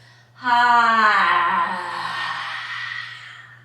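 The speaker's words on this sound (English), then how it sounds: "just breathe out the mouth like this" A long, breathy exhale out through the mouth during a beginner yoga flow, voiced at first and then trailing into a steady airy rush, close and clear.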